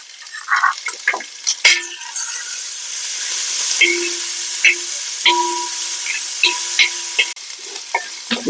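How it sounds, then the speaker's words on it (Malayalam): Crushed ginger and garlic fry in a pan, a steady close sizzle punctuated by repeated scraping and clinking stirs, with no talking. "ഇതിലേക്ക് നമുക്ക് ഇഞ്ചിയും വെളുത്തുള്ളിയും കൂടെ ചതച്ചതും കൂടെ ഇട്ട് കൊടുക്കാം"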